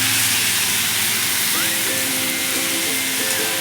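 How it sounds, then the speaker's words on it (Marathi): Chopped onion and tomato sauté in a pan over medium gas heat while making masala bhindi, giving a steady hissing sizzle throughout with faint tonal music-like notes underneath. "आता हे एक आपण चार ते पाच मिनिट टोमॅटो आणि कांदा छान असा मिडियम गॅसवरती परतून घेऊयात"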